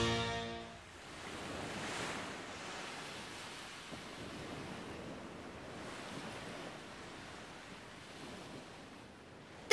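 Ocean waves roll at sea in a Beyblade cartoon scene, a broad washing surf with swells rising and falling every few seconds, mixed with wind rushing past, and no voices heard.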